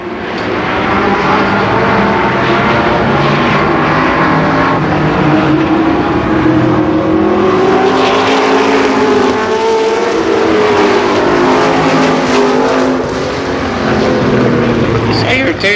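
Race cars running a main event on the oval at Columbus Motor Speedway, a loud sustained engine roar with shifting pitch as the pack passes, with an announcer's voice likely mixed in.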